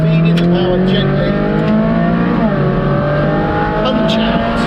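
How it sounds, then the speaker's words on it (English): Ferrari 458 Speciale Aperta V8 at close range, loud and continuous: pitch falls through downshifts under hard braking into a tight left-hander, then rises again as power is fed back in, with a voice talking over it throughout. "Down change, hard on the brakes, another down change, tight left-hander, feeding the power gently,"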